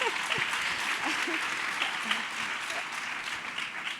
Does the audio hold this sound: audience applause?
yes